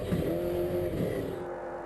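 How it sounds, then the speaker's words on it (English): A Dakar-specification Toyota Hilux rally truck's engine roars loudly and steadily across a beach with a deep, rough growl that holds close and strong the whole time. "The car sounds fierce as it roars across the beach"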